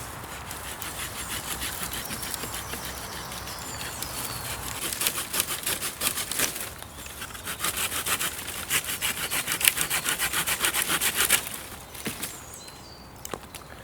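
A blade saws and scrapes through a straight hornbeam stick in rhythmic strokes, close by, with faint birdsong in the background.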